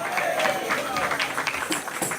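A church congregation applauds during a Spanish-language sermon, a dense steady patter of many hands filling the space for a couple of seconds, mixed with some voices.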